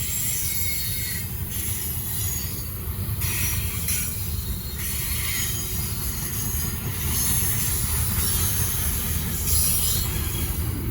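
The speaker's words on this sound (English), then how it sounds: "This might be the last train." A Norfolk Southern freight train rolls past on the rails in a continuous, loud rumble lasting the whole stretch, with wheels squealing and a faint clickety-clack over the steady roar.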